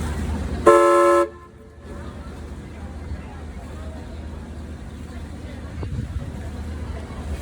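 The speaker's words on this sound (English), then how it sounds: "We are going to blast a whistle here again. It'll be one short blast" One short, loud boat whistle blast rings out, then fades into a low rumbling background with faint murmuring voices.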